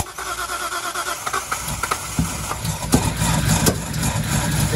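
Datsun 240Z with an L28 engine cranking, catching and running roughly with uneven revs and sharp pops like backfires, loud and close, with no talk.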